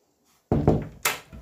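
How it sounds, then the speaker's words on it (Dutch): A small indoor door is pushed shut, giving a dull thunk followed by a second knock about half a second later, both close and fairly loud against a quiet room. "dus deurtje dicht."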